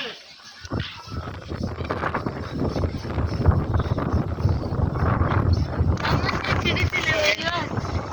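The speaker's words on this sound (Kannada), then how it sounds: "ಇಲ್ಲಿ ತುಂಬಾ ಗಾಳಿ ಇದೆ ಗೈಸ್" Strong, cold wind on top of Gopalaswamy Betta hill buffets the microphone in a loud, continuous roar, with a person talking beneath the gusts.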